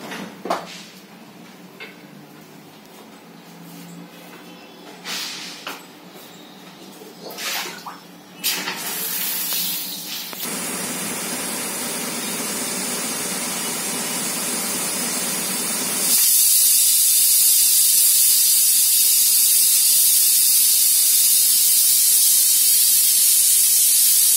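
A gas pressure cooker holding stuffed eggplant and potato curry in green masala builds up to a loud steady steam hiss after earlier scattered clatters, and the hiss jumps sharper and harsher near the end, with no voices.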